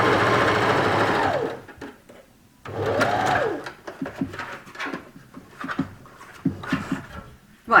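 A sewing machine stitches scrubs top fabric in two fast runs, loud and close, followed by slower, broken stitching bursts with brief pauses.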